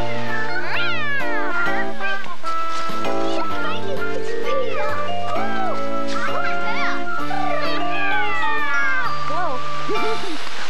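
A performer imitates cat meows in a loud, bright children's TV song, with sung and spoken voices over busy music.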